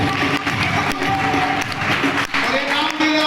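An indoor audience at a training program claps for Karan, a continuous crackle of many hands that holds steady throughout, with voices mixed in beneath it.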